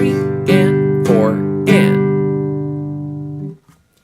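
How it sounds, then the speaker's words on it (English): Acoustic guitar strummed in a steady down-up pattern, downstrokes on downbeats and upstrokes on upbeats, with a few accented chord hits ringing out before the strumming stops. "And so we're doing downstrokes on the downbeat and upstrokes on the upbeat."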